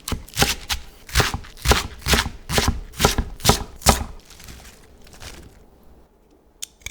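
A knife chops napa cabbage into small squares on a cutting board: about eight crisp, evenly spaced thuds, close and loud, that stop near the end, leaving quiet room tone and one last faint tap.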